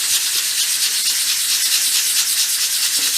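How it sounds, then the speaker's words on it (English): A small wooden dolls house piece is hand sanded with 500 grade sandpaper, giving a continuous close, hissing scratchy rub in small circular strokes, with no talking. "I always just go over each of them with a piece of 500 grade sandpaper and"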